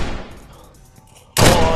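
Loud, broad gunshot blast from a VR shooting video game bursts in abruptly near the end after a quieter stretch, sharp and close.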